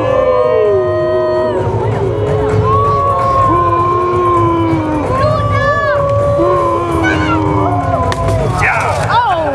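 Crowd at a knights' tournament during a castle Pentecost spectacle cheers and whoops loudly, with a steady roar of voices running through the whole stretch and shouting voices rising above it.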